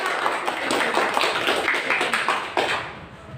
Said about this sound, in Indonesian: Kita tepuk tangan buat semua.